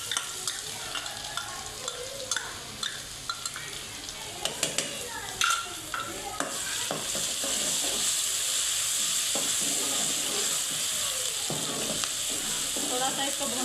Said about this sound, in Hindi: थोड़ा सा इसको भूनेंगे ताकि इसका कच्चापन दूर हो जाए